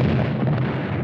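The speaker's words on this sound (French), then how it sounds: "T'entends le canon?" Deep, rumbling cannon fire on a battlefield, a heavy low boom sustained and loud through a short burst with no speech.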